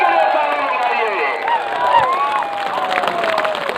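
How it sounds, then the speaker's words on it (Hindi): Large crowd at a political rally applauding and cheering steadily throughout, with whoops and shouts rising over dense, sustained clapping. "अहिंसा के लिए ताली बजाइए, शांति के लिए ताली बजाइए।"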